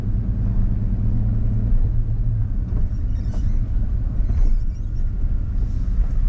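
A truck idles and creeps in reverse toward a scrap pile at a metal scrap yard, a steady loud low engine rumble filling the whole stretch with slight swells as it moves.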